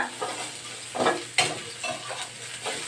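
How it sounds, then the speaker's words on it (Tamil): Dried red chillies frying with onions in a pan, a soft sizzle broken by several sharp scrapes and stirs of a spoon, close and quiet. "நல்லா வெங்காயம் நல்லா வதங்கின பின்னாடி மிளகா போடுங்க"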